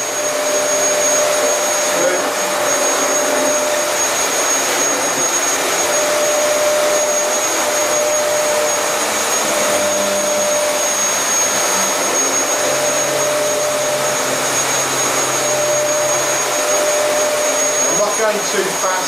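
A vacuum cleaner runs continuously at close range, producing a loud, steady motor roar with a sustained high-pitched whine that never changes in level.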